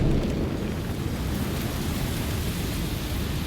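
Steady wind roars through a video game scene in Shadow of the Tomb Raider, a dense, unbroken rushing gust that stays loud for the whole stretch with no voices over it.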